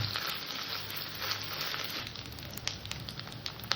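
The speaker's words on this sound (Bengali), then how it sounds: "আদা রসুনটা দিয়েও আমি হালকা একটু কষে নেব যাতে আদা রসুনের কাঁচা গন্ধটা না থাকে" Ginger-garlic paste frying with onions in a pan for a pointed gourd and prawn dish, a dense, crackling sizzle that runs continuously with occasional small pops and stirring scrapes, no one speaking.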